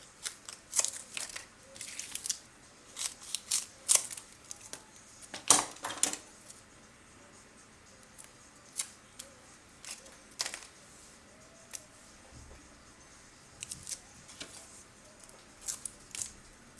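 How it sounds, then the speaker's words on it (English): Scissors snip through card stock diagonally while a star-shaped easel birthday card is made, giving repeated short crisp cuts at an uneven pace, close and fairly quiet, with no talking. "So now I'll chop these up. Just cut diagonally."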